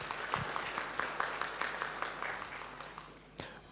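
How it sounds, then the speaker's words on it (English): Audience applause at a cyber security training graduation ceremony, a steady patter of many hands clapping through the room with a louder burst near the end, no talking over it. "Another round of applause for Mr."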